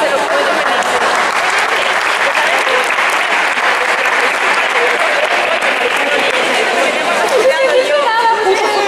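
Applause from spectators at an amateur football match between Rayo Queso Tres Oscos and Cabo Blanco, greeting the rival team: steady, dense clapping mixed with crowd chatter and voices throughout.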